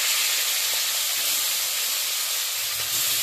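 Khoira fish, just put into hot oil in a kadai, sizzles loudly and close with a dense, unbroken hiss that holds steady throughout.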